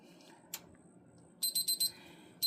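A digital meat thermometer in a kitchen gives a quick run of four high, thin beeps in an even rhythm, then one more, close and clear over a quiet background.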